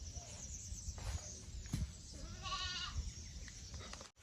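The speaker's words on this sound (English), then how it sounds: "Yeah, the goat agrees." A goat gives a wavering bleat in the middle, fairly clear over a low rumbling background with faint muffled sounds around it.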